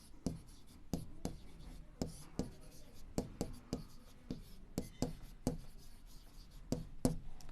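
A pen taps and scratches on paper in a steady run of short, sharp strokes during a Class 7 maths lesson on lines and angles, close but faint, with no voice over it.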